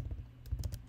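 Quick clicking keystrokes on a computer keyboard as a short command is typed, faint and close, a handful of taps in under a second.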